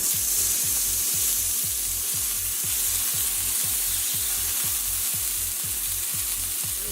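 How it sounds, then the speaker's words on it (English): Beef sears in a hot pan, giving a steady, loud, close sizzle and fry that runs unbroken throughout, with no voices. "Now add beef for about 4 to 5 minutes aside."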